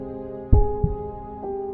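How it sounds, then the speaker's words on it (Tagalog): A faint, even pulse picked up by a vibration sensor in a heritage hotel room, like a heartbeat: low thumps recur at a steady rhythm over a sustained hum, with no voices. "ang vibration sensor ay nagre-record ng mahinang pulso. Pantay, regular, parang tibok ng puso."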